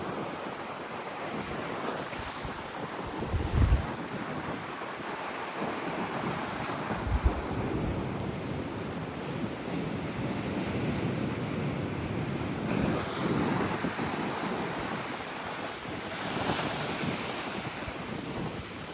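Sea waves surge and wash onto the shore in a steady, roaring broadband rush, with wind buffeting the microphone and a few louder breaking surges standing out.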